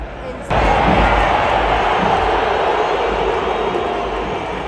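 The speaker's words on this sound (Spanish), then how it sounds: "siguen los abucheos en plena final a Miguel Ayun" Stadium crowd at the Azteca booing during the América vs Tigres final: a dense, loud roar of many voices swells in suddenly and holds steady, easing slightly toward the end.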